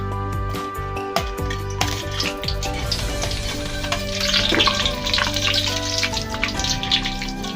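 Pork rinds with fat attached fry in hot oil, giving a dense, continuous crackling sizzle with bursts of bubbling and some clinking of utensils, close and steady throughout, with no speech.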